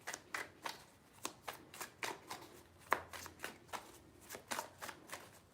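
Tarot cards are shuffled and drawn in a quiet room, a series of crisp riffling and slapping flicks in uneven rhythm, close and soft, with no talking.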